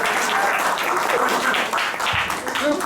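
Audience applause at a birthday roast, a steady wash of many hands clapping fairly close for about three seconds, with faint voices mixed in.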